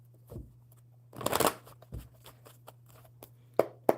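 Close-up card shuffling: a quick riffle burst, then scattered light taps and snaps of cards being squared, with a faint steady hum underneath.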